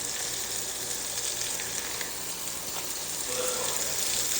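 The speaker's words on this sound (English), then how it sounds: "Let that butter go ahead and melt in there." Butter melts and sizzles steadily in a breakfast skillet already holding bacon grease, a continuous close frying hiss that runs unbroken and fairly even throughout, with no voices.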